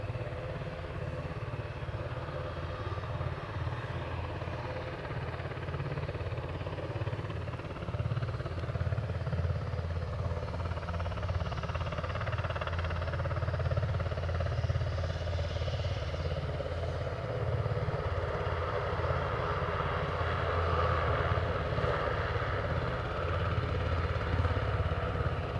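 A helicopter at Aberdeen heliport makes a steady, moderately distant rotor and engine drone, a continuous low rumble that swells slightly midway, with no talking.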